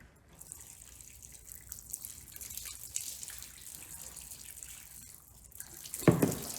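Water is poured through a funnel into a car heater core, a soft continuous trickle and gurgle with hissing flow, ending in a short louder splash and slosh.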